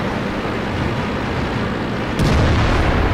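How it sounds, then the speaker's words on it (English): KV-2 siege tank cannon firing in World of Tanks, a heavy deep boom arriving over a steady low rumbling background, loud and close with a broad, sustained low-end roar. "The KV-2 is a siege tank and fires a shot forward"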